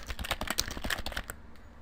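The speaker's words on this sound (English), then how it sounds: "For the time being, I am just going to type in my YouTube name." Rapid, close typing on a computer keyboard, a quick run of clicking keystrokes that stops abruptly just before the end.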